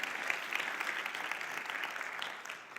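A church audience claps in steady, dense applause for the board of directors, a continuous patter of many hands that eases slightly at the end.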